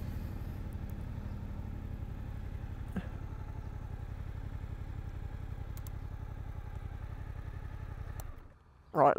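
Engine of a Suzuki GSX-8S motorcycle running steadily at idle, a low, even mechanical drone that holds for about eight seconds before cutting out, followed by a brief loud bump at the end.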